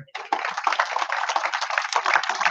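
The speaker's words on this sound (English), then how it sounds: "A round of applause for everyone here." Small crowd at a business launch event in Troy, Michigan clapping after the speeches end, a crisp, fairly close patter of hands that starts abruptly and stays steady.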